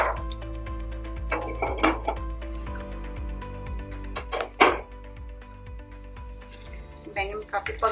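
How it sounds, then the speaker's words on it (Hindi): Eggplant frying in a pan, with a low steady hum underneath and scattered clanks and scrapes of a spatula against the pan. The sizzle itself stays faint. "बैंगन को अच्छे से फ्राई कर लेंगे।"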